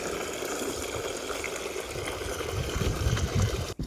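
Water from a farm motor pump gushes in a steady, fairly quiet rush that swells slightly toward the end, with no voices.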